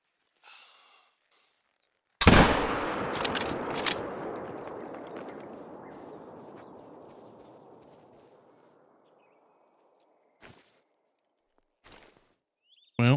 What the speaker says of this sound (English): go ahead and put in a shot